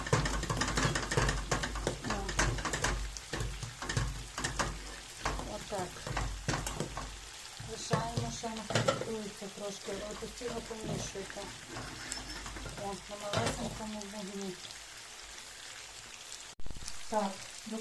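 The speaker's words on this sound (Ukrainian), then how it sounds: "Ось так треба його постійно мішати." Potatoes for tokan fry in a pan while a spoon stirs them constantly, making a soft crackling sizzle with scraping strokes. A voice talks over the cooking throughout.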